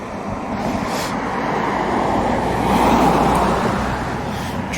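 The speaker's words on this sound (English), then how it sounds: "Trouble is with the other cars going past, however." Passing cars on a road swell and fade in broad rushing whooshes, one peaking near the middle and another building toward the end, fairly close, with wind-like roadway noise underneath.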